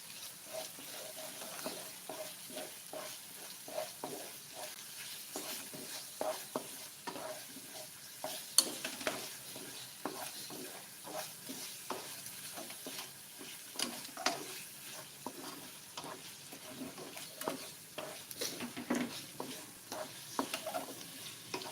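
Meat being stirred into cooked rendang spice paste as it fries, with a continuous soft sizzle and repeated scraping strokes of a spoon in the pan, fairly quiet and with no talking.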